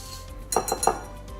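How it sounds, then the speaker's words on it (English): Whisk clinking against a bowl while mixing dry ingredients with cinnamon for a breakfast dish, three quick bright metallic taps close by, with no talking. "I'm just going to kind of whisk those together, make sure everything's well mixed"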